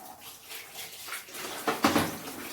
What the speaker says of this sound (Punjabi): ਹੁਣ ਆਪਾਂ ਇਹ 'ਚ ਥੋੜਾ ਜਿਹਾ ਪਾਣੀ ਪਾ ਲਈਏ